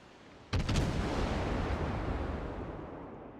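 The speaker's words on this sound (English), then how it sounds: "Concentrate fire on the enemy warship." Warship guns firing in World of Warships, a single heavy boom at the start that rolls into a long, loud rumbling decay with a few crackling bursts layered on top.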